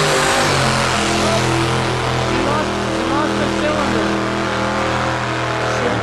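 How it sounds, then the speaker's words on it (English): A pulling truck, a Chevy fitted with a Chrysler Hemi, roars loudly and steadily at a truck and tractor pull, then its engine note sags as it loses a cylinder and power, with crowd and announcer noise underneath. "She lost a cylinder. You heard it lose power."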